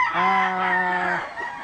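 A gamecock stag crows once, a single drawn-out call lasting about a second, fairly close and clear with little background.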